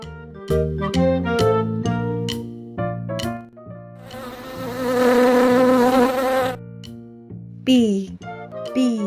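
A toy bee gives off a loud, rough insect-like buzz lasting a few seconds, set between bright electronic toy tones and jingly notes, close to the microphone.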